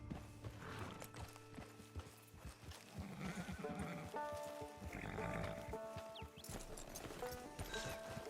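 Horse hooves clip-clop in Red Dead Redemption 2 as the rider approaches camp, a faint steady rhythm mixed with soft game ambience and animal bleats in the background.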